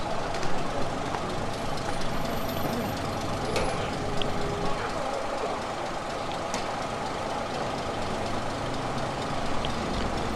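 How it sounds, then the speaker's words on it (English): Bus making a three-point turn on the Broadway at a running day for vintage buses, with continuous engine rumble, scattered hisses and clunks, and faint voices in the busy street. "For some buses, this meant a 3-point turn."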